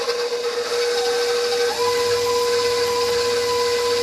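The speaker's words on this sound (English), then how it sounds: "I'm going to put that in my mixer. My handy dandy KitchenAid that I just love. So I'm going to start out on low and I'm going to cream the butter." A KitchenAid stand mixer runs on low, creaming salted butter, giving a steady motor whine with a constant tone throughout, close and unbroken.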